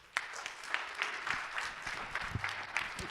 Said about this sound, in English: Would you please give a warm applause to Mr.